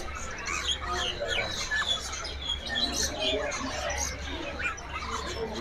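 Many caged birds, including lorikeets and parakeets, chirping and squawking together in a busy Indonesian bird shop, a dense continuous chatter over a low hum, with people talking in the background.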